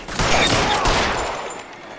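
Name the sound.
gunfire hitting the player in a video game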